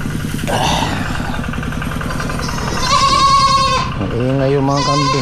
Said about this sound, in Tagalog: Ingay yung mga kambing, gutom.